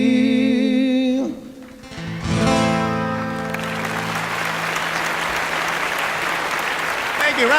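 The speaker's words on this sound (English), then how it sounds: "Round of applause for Patrick Puffer" Cruise ship show audience on the M/S Ecstasy breaking into applause as a sung tune ends, the last held notes fading before dense clapping swells and continues loudly.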